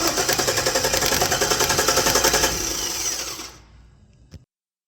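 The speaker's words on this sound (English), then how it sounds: "So we're going to jump the starter, see if that's any good, and move on from there." A screwdriver bridges the starter terminals on a 1974 GMC Jimmy, and the starter whirs loudly in a fast, steady rhythmic spin for about three seconds, then winds down and stops, ending with a faint click.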